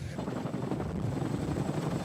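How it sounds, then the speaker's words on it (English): Firefighting helicopters drop buckets of water over a forest wildfire, giving a steady, dense rotor thrum and rumble that continues unbroken. "The helicopters dropping buckets of water on those flames."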